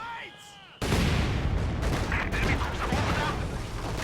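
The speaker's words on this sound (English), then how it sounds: "that mortar pit is kind of keeping him pinned in" Mortar and artillery fire in the strategy game Company of Heroes 2, a sudden loud blast followed by continuous rumbling booms and impacts, with someone talking over it.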